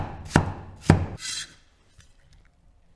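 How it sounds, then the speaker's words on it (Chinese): A kitchen knife cuts tomatoes into large chunks on a cutting board, two sharp, close thuds a half-second apart followed by a brief scrape, then near silence. "对半切开之后直接切成几大块"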